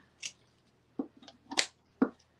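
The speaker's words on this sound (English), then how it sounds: "So then I'm going to take my scissors" Scissors trimming folded craft material for an egg and carrot DIY kit: four or five short, crisp snips spaced about half a second apart, close and quiet, in an otherwise still room.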